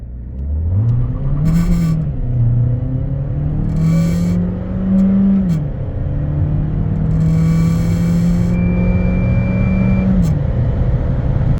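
A Baic Beijing 7 SUV with a 1.5 T-GDI turbo petrol engine and DCT gearbox accelerates hard, its engine note climbing steadily and dropping at gear changes several times, heard from inside the cabin with loud road rumble.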